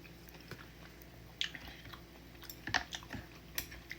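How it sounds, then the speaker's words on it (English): Someone eats Nongshim udon noodles up close, with soft smacking chews and brief slurping sounds in irregular bursts over a low background hum. "I'm smacking and slurping."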